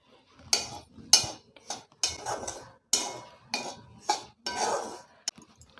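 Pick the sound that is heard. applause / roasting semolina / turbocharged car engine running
roasting semolina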